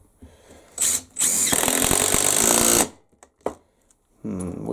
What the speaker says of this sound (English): With the Makita, we're on the same speed, yep. Start that again.